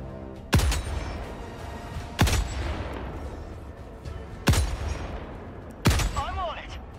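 Rocket devastator robots fire on the player in Helldivers 2, four sharp heavy blasts spaced a couple of seconds apart with rumbling tails, amid background battle noise and a voice talking.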